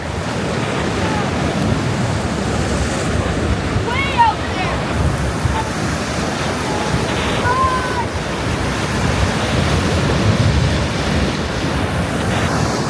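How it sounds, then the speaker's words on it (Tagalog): Ocean waves wash and roar continuously nearby on a rocky Pacific beach near Port Renfrew, with wind buffeting the microphone and a few faint bird calls above the surf. "Pwede lumakas ang alon."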